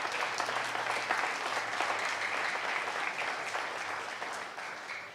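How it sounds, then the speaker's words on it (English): A big round of applause for young 4-H dairy goat showmen fills an arena, steady dense clapping from a crowd lasting throughout and slowly easing toward the end. "So let's go ahead and give these showmen another big round of applause."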